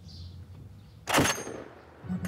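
A single sharp gunshot cracks loudly and close during an attack on Norwegian soldiers in Afghanistan, rising out of a quiet, low background rumble and leaving a brief ringing tail.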